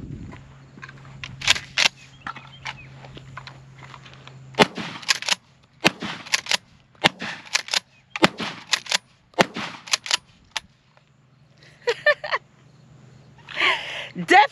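A Mossberg Maverick 88 Cruiser pump shotgun firing Fiocchi shells outdoors, a series of sharp loud blasts spaced irregularly with pump-action clacks between them, and voices talking in the gaps.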